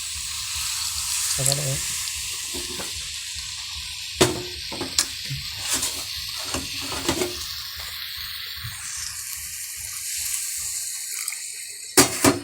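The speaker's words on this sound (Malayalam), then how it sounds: "ഇനി വെള്ളം ഒഴിക്കാം" A small amount of water is poured into a hot cooking pan with a spice paste, giving a steady hissing wash with soft sizzle, broken by a few sharp clinks and knocks.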